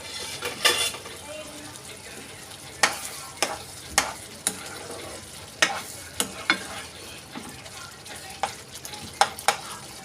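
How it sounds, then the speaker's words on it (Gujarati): Cashew curry masala is stirred and sautéed in a pan on low heat, with a soft steady sizzle under a string of sharp spoon scrapes and taps against the pan, spaced irregularly and heard up close. "એ ફાટે નહીં, એકદમ સ્લો તાપે સાતળશું"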